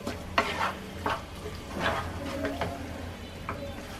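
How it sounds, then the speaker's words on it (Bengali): Jujube (boroi) pickle being stirred and cooked in a pan over medium heat, with soft scraping strokes and intermittent spoon taps over a low sizzle, fairly quiet and close. "অনবরত নেড়ে চেড়ে এখন মিডিয়াম আছে এটাকে রান্না করতে হবে"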